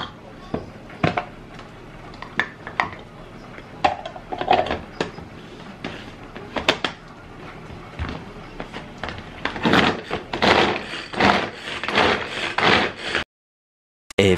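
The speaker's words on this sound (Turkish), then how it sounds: "Bu kabağı böyle kesiyorum. Şöyle doğrama aleti var bende bir tane." A handheld vegetable chopper cuts zucchini in a home kitchen, giving a series of sharp, close chopping clacks that come irregularly and then grow denser and louder near the end.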